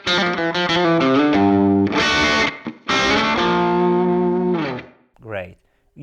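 A guitar played through a Strymon Cloudburst reverb pedal set to a very small room, tone at mid and no modulation, giving sustained chords and notes with a short ambient tail; a brief pause and a quick final phrase close it.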